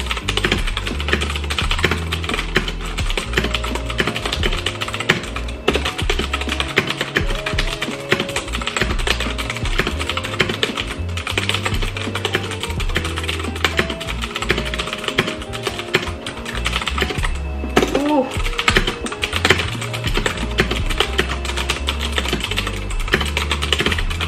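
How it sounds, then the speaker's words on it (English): A Royal Kludge RK61 mechanical keyboard is typed on continuously, giving close, rapid, clacky keystrokes in an uneven rhythm with no talking. "I just love the sound of mechanical keyboard, so I figured maybe I'll just do like a little ASMR for you guys"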